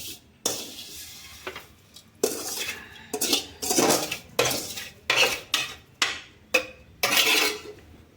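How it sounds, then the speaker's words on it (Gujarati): Roasted vermicelli tipped into boiling milk in a metal pot for sweet kheer, with a series of loud, close clanks and scrapes of a spoon against the pot at a steady rhythm. "હવે આપણે આની અંદર શેકેલી આપણી જે સેવ છે એને આમાં નાખી દઈશું"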